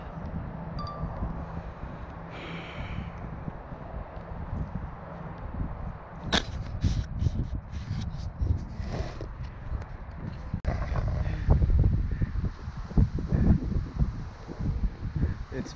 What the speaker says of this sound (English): It's blowing like crazy out here. You can see the wind.